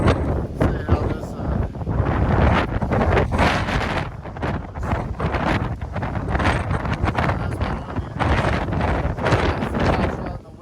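Strong wind blows across a mountain trail on the northbound Appalachian Trail, buffeting the microphone with loud, continuous roaring gusts throughout.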